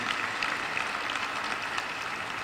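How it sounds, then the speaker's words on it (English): At a banquet, an audience keeps up a steady burst of applause, many hands clapping evenly at a modest distance without pause. "Give him another round of applause for his work."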